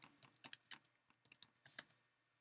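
Fast typing on a computer keyboard, a quick irregular run of light clicks and taps that slows and trails off, faint and close with no voices.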